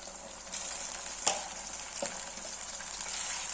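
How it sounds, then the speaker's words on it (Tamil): Steady bubbling and hissing of water boiling in a pot, a continuous close simmer with a couple of faint clinks, no voices. "கொதிக்க ஆரம்பிச்சிச்சு பாருங்க."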